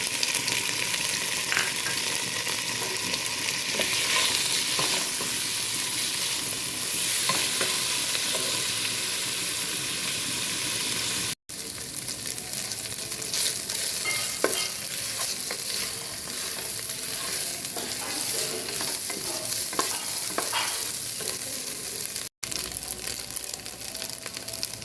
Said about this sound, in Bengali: সেম ঘিয়ে আমি নারকেল ভেজে নিচ্ছি।